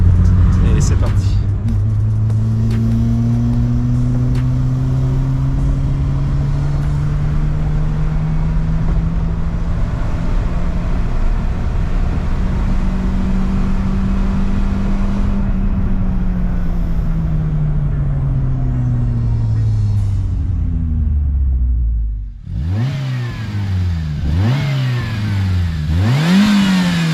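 A Peugeot 106 Quiksilver fitted with a cone air filter accelerates hard in second gear from 50 to 80 km/h, its engine droning loudly and climbing in pitch up close, then backing off and revving in short blips.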